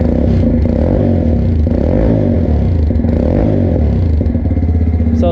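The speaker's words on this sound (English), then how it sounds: "it's got a nice little stainless steel exhaust. Sounds pretty good." A Motrac M5 125cc supermoto with a stainless steel exhaust runs steadily up close, a loud continuous single-cylinder idle with a slight rev toward the end.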